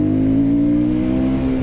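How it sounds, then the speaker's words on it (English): Royal Enfield Guerrilla 450 motorcycle engine held at a loud, close, steady rev, a strong low throbbing drone with a slight rise and fall over the brief burst. "I'm not getting tired of this motorcycle, you know, of revving the tits off it"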